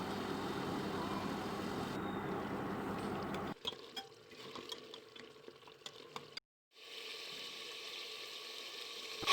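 Mutton frying in about half a cup of oil for a potato curry, a steady broadband sizzle at first, then quieter crackling and scraping after a cut, a brief silent gap, then the hiss resumes.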